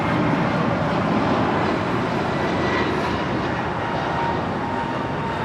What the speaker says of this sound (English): This takeoff is American 1303 departing to Charlotte on an A321neo